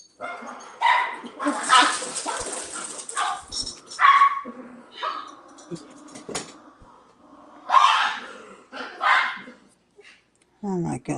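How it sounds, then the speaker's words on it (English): Dog barking and whimpering indoors, with a string of close yips and whines rising and falling in bursts while someone talks over it. "oh my goodness, that dog."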